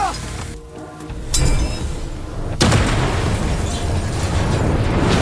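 A sudden loud boom bursts out, followed by a second blast and a heavy, sustained rumbling roar.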